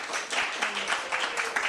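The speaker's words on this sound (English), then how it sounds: "Could we get a quick round of applause for Jess?" Brief applause from a small session audience for a speaker, scattered hands clapping at moderate volume with uneven rhythm and a faint voice underneath.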